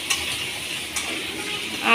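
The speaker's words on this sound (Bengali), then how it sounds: "এখানে ফুলকপির আলু ভাজা হচ্ছে" Cauliflower and potato fry in a pan with a steady broadband sizzle, a couple of brief stirring scrapes breaking through, with no talk.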